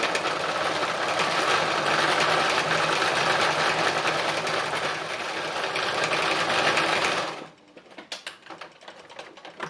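Sewing machine stitching fabric at speed during free-machine embroidery, a loud steady rapid clatter that runs for about seven seconds before stopping, followed by quieter scattered clicks and handling noises.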